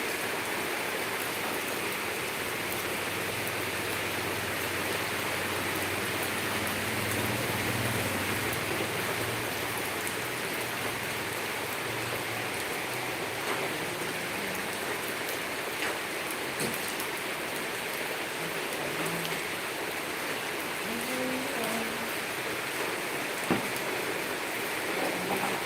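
Steady rain falls outdoors as children bathe in it. A dense, even hiss of drops hitting surfaces runs the whole time, with faint voices in the background.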